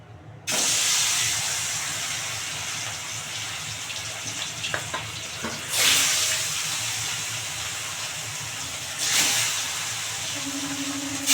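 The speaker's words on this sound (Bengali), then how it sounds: "তেল গরম হয়ে গেছে, আর মাছটা এক এক করে দিয়ে দেবো" Pieces of katla fish frying in hot white oil, a steady loud hiss and sizzle with a couple of louder bursts as pieces go into the pan.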